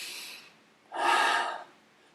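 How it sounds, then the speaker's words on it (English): A single deep breath taken in through the nose or mouth, a soft broadband rush lasting under a second, close and alone in a quiet room with faint noise before it. "I want you all to close your eyes and take a deep breath."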